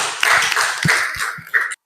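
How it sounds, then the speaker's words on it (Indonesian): A short burst of applause from a small group in a classroom, hands clapping rapidly for under two seconds before cutting off abruptly. "Tepuk tangan dulu."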